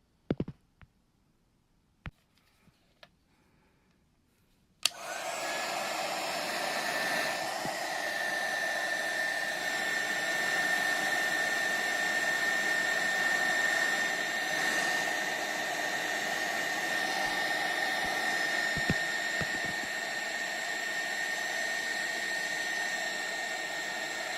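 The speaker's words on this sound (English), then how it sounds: "so I'm gonna heat shrink it and then fold it over" A heat gun running steadily while shrinking heat shrink tubing during a brake upgrade on a Lexus IS500, a continuous close blowing roar with a faint whine that starts abruptly after a few quiet seconds with small clicks and then holds evenly.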